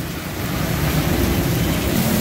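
Heavy rain pours down steadily in Sialkot, with wind gusting in a dense, loud, continuous hiss and rumble close to the microphone.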